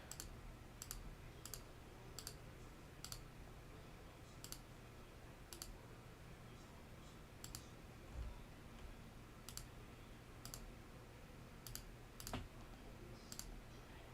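Mouse clicks in design software sound as sharp, isolated clicks spaced roughly every second or so over a steady background hum, with one or two softer thumps between them.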